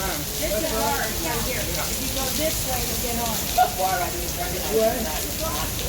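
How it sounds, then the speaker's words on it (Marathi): Heavy rain on a Bahamas island during a cruise stop pours in a continuous dense hiss, with faint voices talking quietly underneath and a few sharper splashes. "पाऊस थांबतच नाही आहे"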